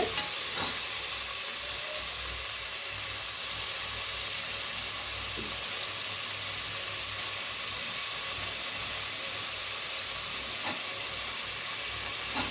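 Tomatoes frying in a pan with onions, mint, curry leaves and coriander for chicken biryani, giving a loud, constant hissing sizzle with a few faint knocks, no speech.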